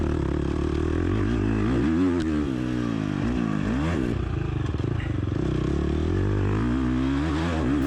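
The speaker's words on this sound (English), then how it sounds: "Out in this field section, just listen to my bike eat." A motocross bike on an MXGP race track revs hard and continuously, its engine rising and falling in pitch as the rider works the throttle up close, with some rattling clatter.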